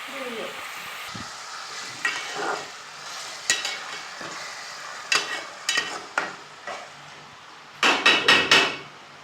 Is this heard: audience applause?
no